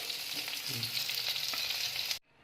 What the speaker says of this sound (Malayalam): നമുക്കിത് മാറ്റിയിട്ട് അടുത്ത ബാച്ച് നമുക്ക് ചിക്കൻ ഇതിലോട്ടേക്ക് ഇട്ട് ഇതുപോലെ തന്നെ ഫ്രൈ ചെയ്തെടുക്കാം